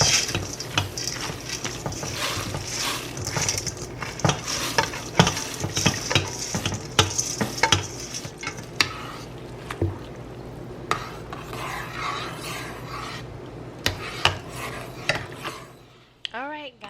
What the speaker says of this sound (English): now I'm going to add in my 2 cups of dried lentils